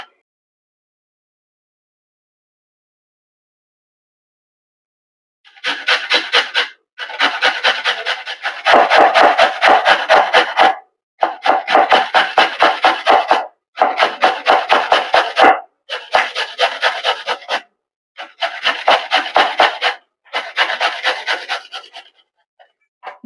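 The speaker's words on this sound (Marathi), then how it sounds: "बीट आणि गाजर किसून झालेला आहे." Beetroot and carrot rubbed against a hand grater in rhythmic bursts of quick rasping strokes, close and loud, with short pauses between runs and a silent start.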